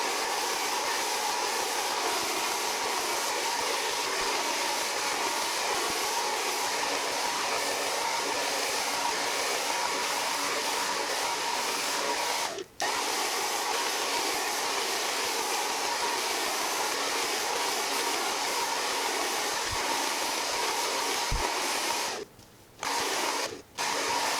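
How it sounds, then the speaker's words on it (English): A hair dryer blowing hair dry in sections gives a steady, close, loud whooshing hum that runs continuously, cutting out only for a split second midway and briefly near the end. "I will break my blow dry session into 3 parts."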